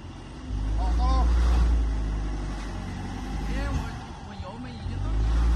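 An Audi Q5 quattro engine at full throttle on a muddy off-road course, a loud, sustained low drone that rises and falls, with people talking over it outdoors.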